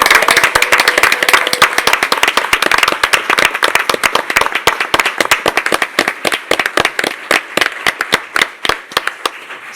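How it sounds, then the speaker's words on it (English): Applause at a town board meeting for a youth World Series softball team, with crisp, rapid claps from a modest group that start dense and thin out into scattered, distinct hand claps. "So why don't we give them a huge round of applause"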